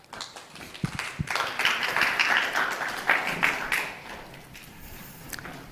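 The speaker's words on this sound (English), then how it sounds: "Ladies and gentlemen, round of applause." Audience applause at an architecture and design awards presentation swells into steady clapping, holds for a few seconds, then thins out into scattered claps.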